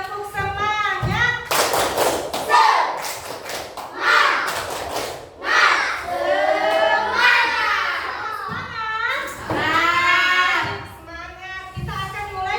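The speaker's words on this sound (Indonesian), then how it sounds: "Oke, tepuk semangat." Students in a classroom perform the tepuk semangat spirit clap twice, giving patterned bursts of clapping among lively group chanting, with an adult voice speaking between rounds.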